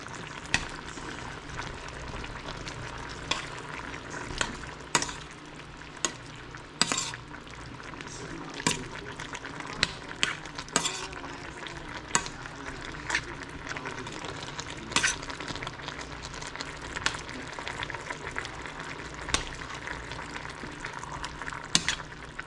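Bitter gourd (ampalaya) is stirred as it fries in a pan: a steady, soft sizzle broken by frequent sharp taps and scrapes of the utensil, with no talking.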